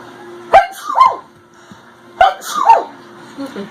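Babies sneezing, two sharp little bursts about a second and a half apart, each followed by a squeaky, whimpering vocal tail, close and fairly loud.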